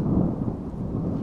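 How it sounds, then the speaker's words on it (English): Heavy rain pours down steadily with a low, continuous rumble of thunder, loud and close throughout with no break. "Wowzers, that rain is coming down faster than a shooting star."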